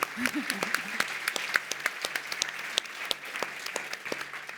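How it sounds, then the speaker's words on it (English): A small group claps, scattered and fairly soft, with a voice speaking briefly at the start. "Big applause to you."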